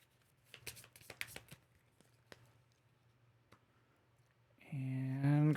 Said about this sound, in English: So we're shuffling.